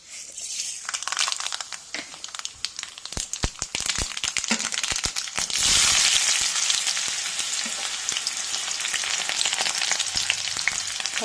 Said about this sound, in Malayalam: എണ്ണ ചൂടാകുമ്പോൾ കടുക് ഇട്ട് കൊടുക്കുക.